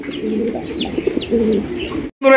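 Rasgolla pigeons coo in low, throaty rolling bursts, close by, with a few faint high chirps from other birds overhead.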